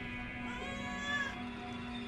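A cat in a Diablo II Resurrected PC game gives a drawn-out, whiny meow that swells briefly near the middle, steady and moderately loud over a low constant hum.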